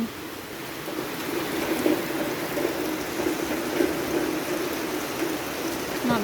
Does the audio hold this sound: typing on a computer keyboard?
no